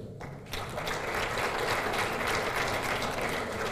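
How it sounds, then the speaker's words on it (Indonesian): A university audience breaks into applause after a short quiet start, the dense rattling clapping swelling quickly and holding steady to the end. "Tepuk tangan lagi."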